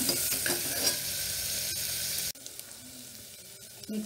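Bay leaves and sliced large onion sizzle in hot oil for peas methi pulav, a steady crackling fry that stops abruptly, leaving a quieter low hiss.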